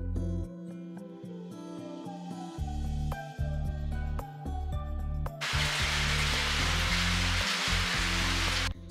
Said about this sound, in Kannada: ಸಂಜೆ ಆಗ್ತಿದ್ದಾಗೆ ಬಂತು ನೋಡಿ ಒಂದು ದೊಡ್ಡ ಮಳೆ.